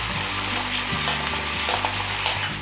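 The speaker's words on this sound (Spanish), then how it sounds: "Le echamos un poquito de sal y lo vamos rehogando" Onion and pepper sautéing in a pan for stuffed eggplant, a steady close sizzle and crackle of frying running throughout with faint stirring scrapes.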